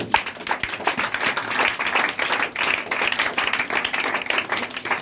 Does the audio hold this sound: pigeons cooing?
no